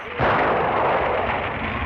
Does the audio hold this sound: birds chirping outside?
no